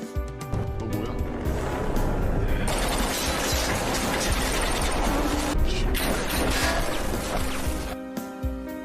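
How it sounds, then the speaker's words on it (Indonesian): Gunfight aboard a gangster-filled ship in the film Project Wolf Hunting, with dense, loud crashing and banging that runs almost continuously over a rumbling backdrop, heavy impacts piling up without pause. "Di sana mereka saling tembak satu sama lain."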